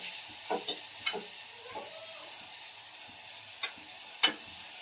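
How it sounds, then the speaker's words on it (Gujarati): Tomatoes dropped into hot oil for a Kathiyawadi sev tamatar curry give a faint, steady sizzle and hiss, with a few soft knocks and clicks of stirring scattered through it. "તેલ આવી ગયું છે. હવે ટમેટા"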